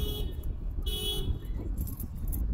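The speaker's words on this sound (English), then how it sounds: "there's an idiot honking at me" A car horn blares a single short honk near the middle of the moment, set against a steady low rumble of road and engine noise.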